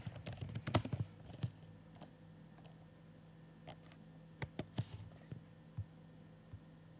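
Keys clatter on a computer keyboard during Python data-cleaning work, with soft irregular clicks in short bursts over a low steady hum, quiet and close.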